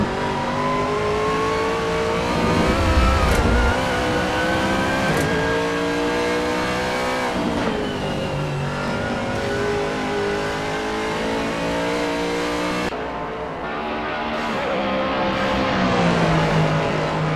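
A GT3 race car, an Aston Martin Vantage GT3 at Zandvoort in a racing video game, snarls past with a loud, continuous engine note that revs and shifts up and down, with brief tyre squeal and a fading pass near the end.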